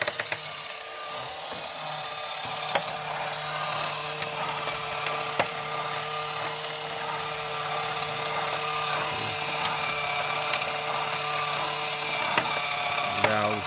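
A small electric motor drives a clear plastic four-cylinder engine model with a timing belt and moving valves, giving a steady mechanical hum with faint rubbing and ticking clicks throughout, close by.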